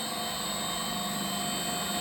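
The electric motor of a hydraulic hose crimping machine, driven by a frequency drive, runs at full speed, giving a steady, even whine and hum with no breaks.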